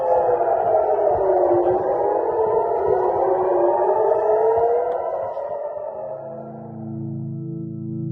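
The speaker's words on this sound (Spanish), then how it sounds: "Sonaron las alarmas y parte de la población se protegió en los refugios antiaéreos." Air raid alarm sirens sound across Israel during an Iranian attack, a wailing distant tone that rises and falls, then fades as a second, lower sustained siren takes over.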